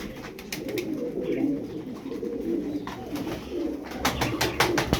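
Several pigeons coo steadily in a loft holding seven birds, three males and four females, their low rolling calls continuous and fairly close, with brief faint higher chirps and rustles near the end.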